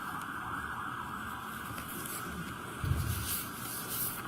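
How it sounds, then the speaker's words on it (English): Emergency vehicle sirens wail as they pass outside a courtroom during a murder trial, heard faint and distant over a steady indoor hum. A short louder rumble comes near the end. "if I could just hold on 1 minute while the sirens pass."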